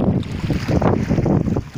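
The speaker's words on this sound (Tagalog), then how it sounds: "habagat ang hangin ngayon." Strong habagat southwest monsoon wind gusting over a fishing boat at sea off Lucena, Quezon, a loud, steady buffeting roar with fluctuating low rumble and no voices.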